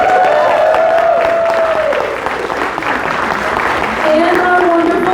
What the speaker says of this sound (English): let's give a round of applause for all of our cosplayers